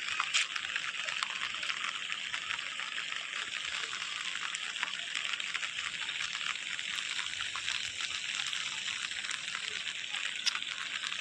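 Rainwater after heavy rain rushes steadily into a village drain, a constant close hiss of flowing water with no talk.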